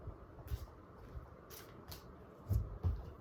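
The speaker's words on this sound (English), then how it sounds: "Shuffle it one more time." Soft papery riffling of tarot cards being shuffled, several quick flurries close by over a quiet background.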